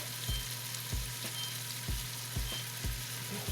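Garlic frying in a pot over medium-low heat gives a steady close sizzle, with a soft rhythmic knock about every half second, likely from stirring.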